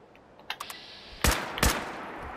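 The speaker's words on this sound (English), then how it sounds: "Just want to test out this gun." Fallout 76 gun fires on test, two loud, sharp blasts about half a second apart with ringing decay, after a few light clicks, no talk.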